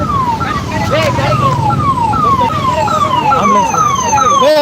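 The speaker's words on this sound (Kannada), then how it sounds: "ಆಂಬುಲೆನ್ಸ್ ಬಂತು" A wailing ambulance siren sweeps up and down in quick repeating cycles, loud and close, over traffic noise with some voices underneath.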